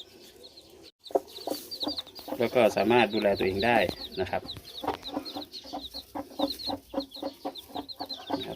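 A mother hen and her chicks clucking around a pond enclosure, soft repeated clucks and high chick peeps in a steady busy pattern, with someone talking over them.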